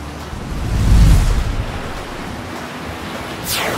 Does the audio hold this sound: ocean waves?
yes